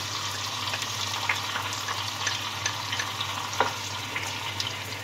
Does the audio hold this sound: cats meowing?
no